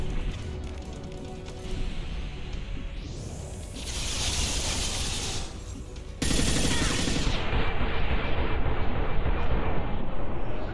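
Sustained automatic gunfire in a Mass Effect 2 firefight during Legion's loyalty mission, loud rattling bursts with hissing blasts that swell and cut off abruptly, then resume heavier.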